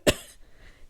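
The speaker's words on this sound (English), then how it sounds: "She says as she coughs." A woman gives a single sharp, close cough that fades quickly into quiet.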